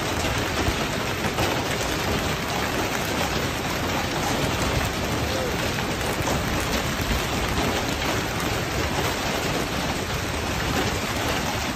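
Torrential rain pours during a hailstorm in Calgary, Alberta, a loud, unbroken roar of dense drops hammering surfaces from start to finish, with no voices.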